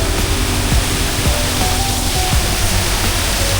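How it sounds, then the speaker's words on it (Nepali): An artificial waterfall in a park in Jinju, Gyeongsangnam-do, Korea rushes in a loud, dense, unbroken wash of falling water, with a few faint low thumps beneath. "यो चाहिँ बनाएको कृत्रिम झरना हो, एकदम राम्रो रहेछ"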